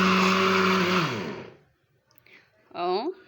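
An electric blender whips garlic sauce as a thin stream of oil is drizzled in: a loud motor whine winds down and fades to near silence, then the blender briefly starts up again.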